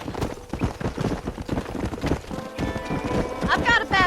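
Horse hooves clip-clop at a steady gallop while a rider travels in the Western video game Red Dead Redemption, with loud rhythmic footfalls throughout and a brief whinny near the end.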